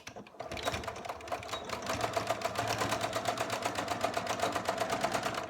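Sewing machine stitching a seam a couple of millimetres from the fabric edge on hospital scrubs, a close, rapid, evenly pulsing needle rhythm that starts after a short quiet moment and runs steadily throughout.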